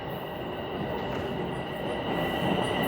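A passing train on a Toronto rail line on a snowy day, a loud, steady rumble of wheels with high squealing tones running throughout.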